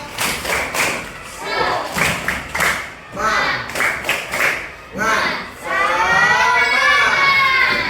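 A classroom of children doing a rhythmic spirit clap together, bursts of sharp clapping in patterned groups with chanted voices, ending in a longer sustained shout.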